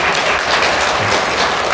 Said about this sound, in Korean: 다시 한번 격려 박수